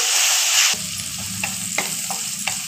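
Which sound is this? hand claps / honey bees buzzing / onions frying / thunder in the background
onions frying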